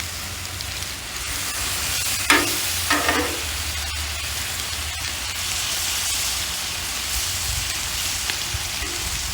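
Skirt steak seasoned with salt and pepper and marinated in Worcestershire sauce sizzles on a Blackstone griddle, a constant close hiss with a couple of brief scraping bursts early on.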